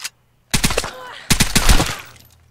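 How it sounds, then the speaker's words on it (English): Video game gunfire bursts in two loud rapid volleys of automatic shots separated by a brief lull, close and punchy, with a faint trailing rumble and a quiet voice nearby. "And there's just gunshot."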